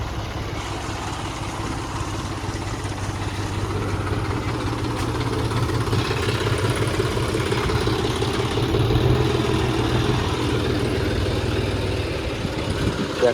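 A farm tractor sits idling with a cultivator being hitched, its engine giving a steady, low, rumbling hum that stays even throughout with no one speaking.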